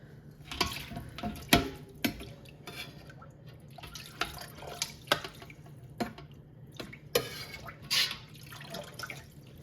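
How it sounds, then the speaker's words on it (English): Cheddar cheese curds are scooped from a pot into a colander that sits poorly on top, whey dripping and splashing in scattered, irregular drops and small pours, fairly quiet and close. "Okay, so next I'm going to take a colander and start scooping curds into it."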